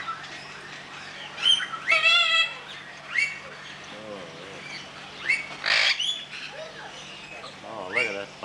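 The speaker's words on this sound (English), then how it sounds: "That's a black cockatoo." A black cockatoo at a zoo in Blacktown, Australia, gives several harsh, wavering calls at moderate distance, mixed with chatter from people nearby.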